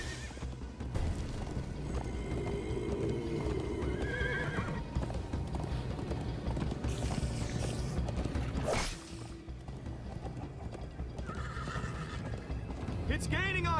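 In Minecraft Story Mode, a horse's hooves clip-clop in a quick galloping rhythm, and loud neighs and whinnies break in, while characters talk over the chase.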